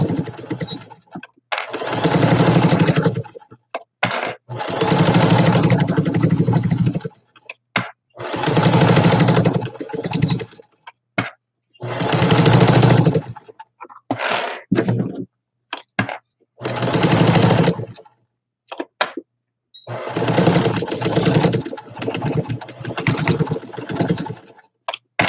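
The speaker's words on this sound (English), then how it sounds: "I feel like my bobbin's about to run out. It sounds loose." A sewing machine stitching with its bobbin running low, loud close bursts of rapid whirring that start and stop in several runs of a few seconds each, separated by silent pauses.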